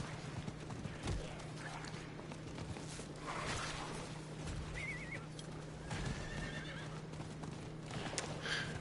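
A horse whinnies several times over steady clip-clopping hooves in the video game Diablo IV, with constant background game noise and a low hum.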